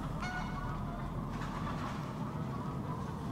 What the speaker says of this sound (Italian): mi hanno dato un pollo vivo